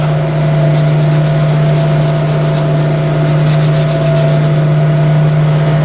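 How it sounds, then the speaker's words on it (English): A Scotch-Brite pad scrubs a Ford 800 engine part in quick, rhythmic back-and-forth strokes, close and loud over a steady hum. The strokes pause briefly midway, then resume. No one speaks. "Scotch Brite panel, get that."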